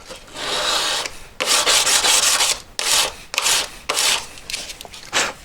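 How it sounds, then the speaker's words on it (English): A sandpaper-covered buff stick scrubs the outside of a Yamaha FJ1200 carburetor float valve seat. Several close, rough rubbing strokes come in bursts separated by short pauses. "Buff stick with sandpaper on it."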